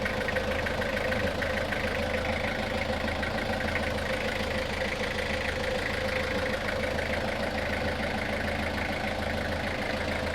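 Toyota Hiace van from 2004 with a 5L diesel engine idling, a steady, even mechanical rumble with a faint knock, continuous and close throughout.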